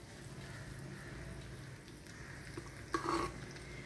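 Hot tempering poured over homemade rice kanji, a soft, fairly faint crackle of sizzling that swells briefly with a sharper burst near the end.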